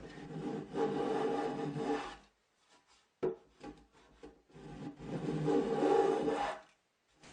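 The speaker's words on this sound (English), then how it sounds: "I noticed I have a slight step in here, so I need to shave this down a bit." A dust collector manifold lid being shaved down by hand, with rasping, rubbing strokes on wood in two long bursts separated by a short pause with a few light scrapes; loud and close, no talking.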